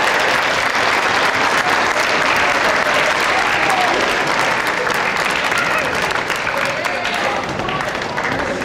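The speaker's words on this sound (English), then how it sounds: "So let's give a round of applause." An audience at a school academic awards ceremony applauds steadily, with dense sustained clapping from a crowd in an indoor hall for over eight seconds.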